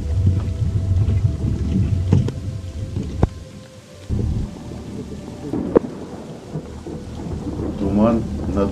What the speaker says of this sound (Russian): Дождь продолжается.